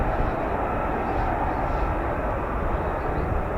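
An F-35B stealth fighter's engine thrust, vectored through the rear nozzle at an RAF airfield, roars as a dense, continuous broadband rumble at steady loudness, with faint voices beneath.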